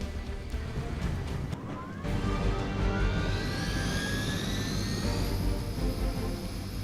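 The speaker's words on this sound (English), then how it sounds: "Disable the Hydra helicopter before it can depart." A Hydra helicopter in the Marvel Midnight Suns video game whines loudly and steadily, a rotor and turbine drone with rising pitched tones that swell partway through, heard alone without speech.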